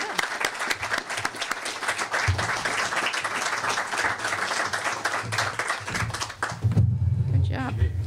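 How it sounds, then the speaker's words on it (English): Sustained audience applause at the 2025 Village of Grafton candidate forum, dense and steady clapping from a crowd for about seven seconds before it fades, with a voice speaking at the end. "let's give them a round of applause"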